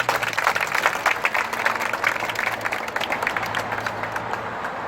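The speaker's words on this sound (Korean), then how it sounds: "박수로 모셔주시기 바랍니다" A crowd at a protest rally over the disciplining of teachers at a school applauds to welcome a speaker, with steady, dense clapping that carries on throughout and then eases slightly near the end.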